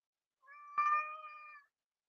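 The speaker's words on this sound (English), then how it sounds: "You heard my cat." A house cat meows once, a drawn-out, clear and fairly close call of about a second, heard on its own with no talk over it.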